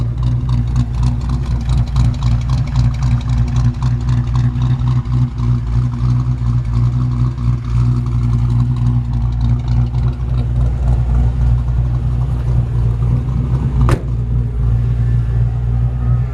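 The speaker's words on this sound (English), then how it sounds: "I love the sound of this engine." A 1953 Ford F-100 shortbed pickup with a 302 V8 idles loudly and steadily up close, its rumble rising slightly in brief revs, with a sharp click near the end.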